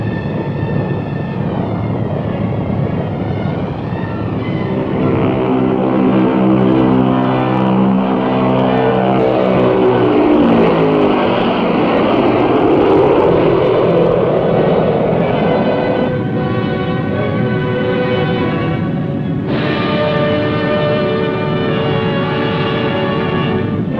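Convair B-36 bomber, a huge piston-engined heavy bomber, droning in flight with loud, steady multi-engine roar and shifting harmonic tones throughout.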